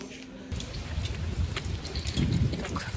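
Steady rain falls outdoors in damp winter weather, a dense even hiss of drops on surfaces that fills the whole stretch, close and continuous with no voices.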